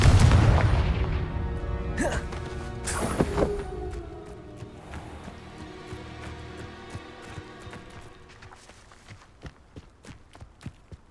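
Confringo spell explosion in Hogwarts Legacy: a heavy boom at the start decays into sharp cracks and debris, followed by scattered footsteps and small impacts fading out.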